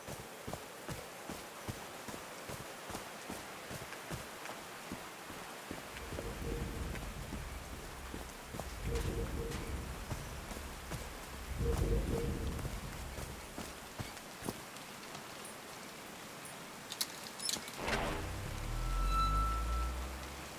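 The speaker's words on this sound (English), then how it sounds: "These drops of rain are so refreshing." Rain falls in the video game Call of the Sea, a continuous shower with scattered drop ticks, repeated heavier rumbling swells and a louder rolling burst near the end.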